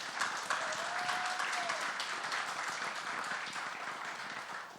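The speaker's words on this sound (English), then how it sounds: "So please, a big round of applause for him." An audience at a film trailer launch event breaks into sustained applause, dense clapping filling the hall for several seconds with a faint tonal whistle briefly rising through it.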